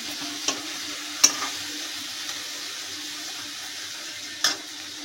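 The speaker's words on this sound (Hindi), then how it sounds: "तो चना भी भून लेते अच्छे से" Chickpeas (chana) roast in a pan with a steady, soft hiss and sizzle, broken by a few sharp clicks from a utensil against the pan, with no voices.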